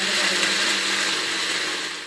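A mixer grinder grinding chutney with water whirs loudly and steadily, a high-pitched continuous buzz that holds constant for a couple of seconds before easing slightly at the end.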